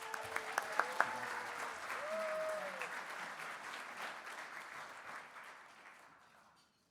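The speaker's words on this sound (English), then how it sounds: "Let's have a big round of applause for our 2022 NAMIC change agents." An audience at a 2022 NAMIC annual awards luncheon applauds in a sustained round of clapping after a few opening claps, then gradually fades out, with a brief tone sounding near the start.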